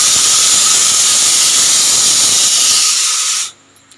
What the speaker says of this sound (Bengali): 6-7টা সিটি আমি দিয়ে নিয়েছি প্রেশার কুকারে